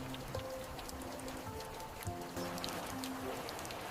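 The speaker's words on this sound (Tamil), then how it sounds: "மழை பெய்யும் போது மரங்கள் குளித்து புத்துணர்ச்சி பெறுவதை பாருங்கள்." Steady rain falls on trees, a continuous close patter of drops with soft tonal sounds underneath and no talking.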